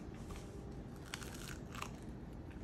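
A crunchy, oil-free baked Colombian empanada is bitten, giving a brittle crackling crunch followed by chewing, close and fairly quiet over a steady low background.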